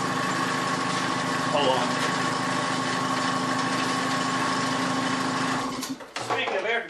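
An air compressor runs steadily in a workshop, a constant droning motor hum with a mechanical buzz, heard up close under brief talk before it cuts off near the end.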